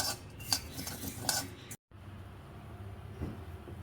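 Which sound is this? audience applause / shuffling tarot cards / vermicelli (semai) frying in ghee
vermicelli (semai) frying in ghee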